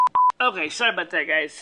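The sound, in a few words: telephone off the hook, dialing tones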